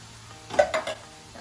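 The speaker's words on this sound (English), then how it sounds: "I'm sauteing the garlic in with the ground turkey." Garlic sautéing with ground turkey in a pan for turkey chili, a brief cluster of three quick scraping stirs over a soft background sizzle, close and fairly quiet.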